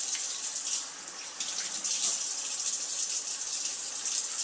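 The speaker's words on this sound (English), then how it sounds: "putting my hands under that cold running water is the wimpy way, but it works for me" Cold tap water runs steadily over hands at a sink during mozzarella making, a continuous hissing splash that is close and moderately loud, with no talking.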